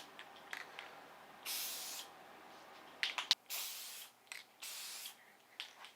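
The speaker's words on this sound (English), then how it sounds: "I'm going to hit these with black primer, so I'm not too worried about it" Black primer sprayed from a can onto slot car bodies in short hissing bursts, about three or four pulses of varying length separated by quiet gaps, close and fairly soft.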